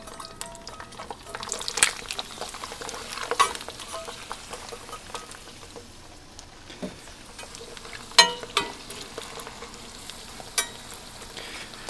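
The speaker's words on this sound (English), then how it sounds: "I'm going to let those potatoes cook down just a little bit." Potatoes and garlic frying in a pan on a Pit Barrel Cooker, a steady soft sizzle with occasional stirring scrapes and clinks, close and fairly quiet, with no talking.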